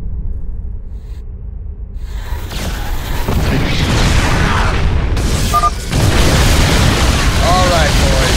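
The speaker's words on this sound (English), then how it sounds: "Hit him with the Yamato cannon. A couple of shots from that'll flatten anything." Yamato cannon shots in the real-time strategy game StarCraft 2: heavy booming blasts with whooshing energy bursts and rumbling explosions, building after a quiet start and staying loud, mixed with game effects and brief unit voice chatter.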